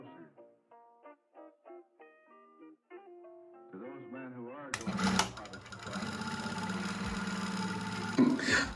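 A JUKI DDL-8000A industrial sewing machine with auto presser foot lifter stitches through eight layers of material, starting after a few seconds of musical tones and then running as a steady, loud mechanical whir with a clunk near the end.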